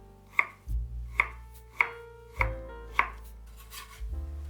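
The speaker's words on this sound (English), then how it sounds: "Cut the bamboo shoots into thin slices." A knife chops bamboo shoots into thin slices on a cutting board, giving five sharp, evenly spaced strikes close by, each with a brief ring, over faint background music.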